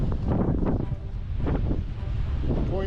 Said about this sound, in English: A rather windy panorama.